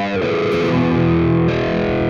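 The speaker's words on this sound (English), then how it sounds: "I come in with the Wahwah and give this extra expression kick." Electric guitar playing an easy blues in E through a wah-wah pedal, a sustained distorted chord sweeping in tone, loud and continuous with no talking.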